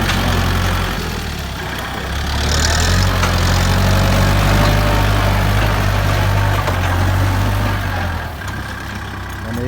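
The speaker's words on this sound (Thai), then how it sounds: "เจอ รถไถคูโบต้าเอลซีเจ็ดศูนย์แปดนะครับ แต่งสวย" A modified Kubota L708 tractor's engine runs steadily nearby, a deep continuous diesel drone that swells a little in the middle and holds with no talking over it.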